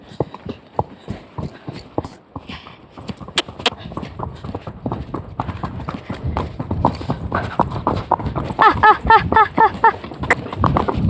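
A pony's hooves clip-clop steadily on a walk, sharp close hoofbeats repeating throughout and growing busier toward the end, with someone speaking over them.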